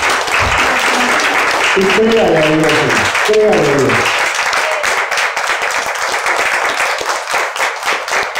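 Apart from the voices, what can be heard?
church congregation applauding loudly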